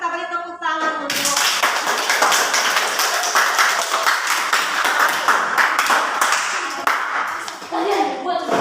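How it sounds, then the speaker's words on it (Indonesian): Students in a chemistry classroom clap together, sharp close hand claps forming a lively, irregular burst that fills most of the clip, with a voice heard briefly before and after. "mari kita beri tepuk tangan untuk"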